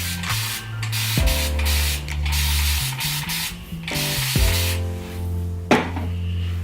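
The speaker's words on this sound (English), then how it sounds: "I'm gonna spray some water." A few quick hissing spritzes from a spray bottle misting water onto thick natural hair, close by, over a steady humming tonal background.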